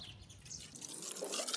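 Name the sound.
pouring water and milk into a pot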